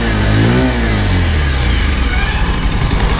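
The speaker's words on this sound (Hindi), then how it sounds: "बहुत ही लो वॉल्यूम पर स्टार्ट हुआ था भाई बाइक।" Close-up Bajaj Pulsar 125 BS6 motorcycle engine giving a short rev that falls back to a steady, muffled idle, the exhaust sounding thin and low in volume, with no voices.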